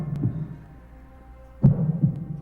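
A movie heartbeat sound effect thumps low and close, a few soft throbbing beats over a faint hum, with a louder double pulse toward the end.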